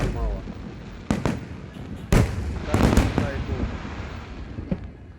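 Fireworks burst outdoors as sharp booms and crackles in several separate blasts, then a denser volley with lingering rumble, recorded on a vivo iQOO 12 smartphone; voices speak faintly in the background.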